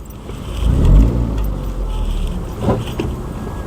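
A Seat Leon Supercopa TSi FR rolls slowly over a speed bump, its mud flap scraping underneath with a rough, low grinding swell, close and fairly loud over the engine's rumble, with no talking.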